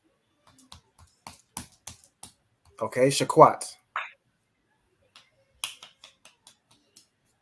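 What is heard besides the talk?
class participants clapping hands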